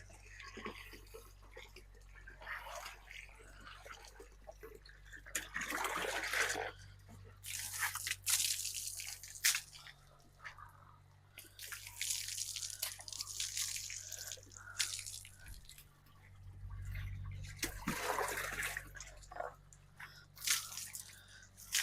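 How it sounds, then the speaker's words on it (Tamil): Water is poured over a horse's legs after a workout, giving splashing, dripping bursts in uneven waves over a steady low hum, close by, with a voice speaking in places. "பின்னாடி வந்து கண்டிப்பாக கால் இடுக்குகளில் தண்ணி ஊற்றணும்"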